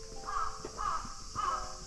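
A crow caws three times at an even pace, moderately near, over a steady outdoor hiss near Fushimi Inari during a thunderstorm.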